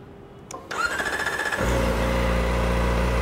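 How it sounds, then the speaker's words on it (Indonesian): A Kawasaki Ninja ZX-4RR 400cc four-cylinder engine starts up and settles into a steady idle around 2000 RPM, a loud, continuous close-up drone with no talk over it. "Ini kondisi stasioner di sekitar 2000 RPM."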